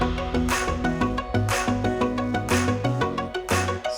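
Build-up section of a pop song, the drums stripped out, leaving sustained synths and a melodic line that move in steady, loud repeating chord steps.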